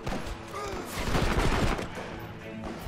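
Rapid bursts of automatic pistol gunfire in Red Dead Redemption crackle in quick succession, a dense volley that swells in the middle and tapers off.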